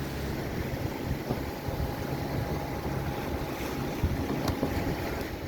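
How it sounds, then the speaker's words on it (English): Sailboat running under spinnaker on the open sea at night near the Cape Verde Islands, with steady wind rush and water washing along the hull, continuous and even throughout with no voices. "we've got the spinnaker up and just enjoying a beautiful night of sailing"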